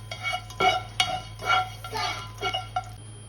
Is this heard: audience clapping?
no